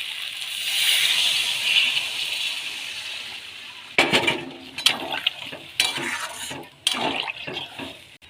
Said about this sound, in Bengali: সব কষানো হয়ে গেছে, এবার জল দিয়ে দিচ্ছি।